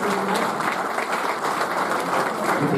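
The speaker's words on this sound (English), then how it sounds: "Can we give him a round of applause?" Audience applause at a cricket club awards night: dense, continuous clapping from a room full of people, steady and fairly loud throughout.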